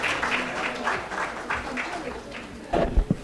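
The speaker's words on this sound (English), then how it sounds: "Kindly welcome sir with a big round of applause." Welcoming applause from an audience at a medical association event, steady clapping with some talk and crowd noise underneath, growing louder toward the end.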